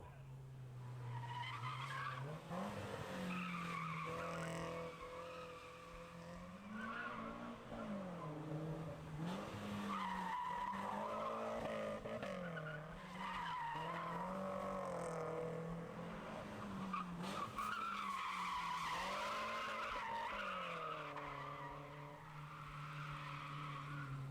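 A Nissan Silvia Spec S S15 sliding in a racing video game: a sustained squealing tire skid with engine tones wavering up and down, repeated over about 24 seconds, fairly quiet overall.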